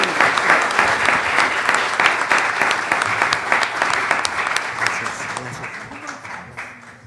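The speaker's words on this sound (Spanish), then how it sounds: "para quienes pido un aplauso." Warm, dense applause from an audience at a panel on molecular genealogy, welcoming a guest's mother and sister; the clapping starts full and loud, then gradually thins and fades toward the end.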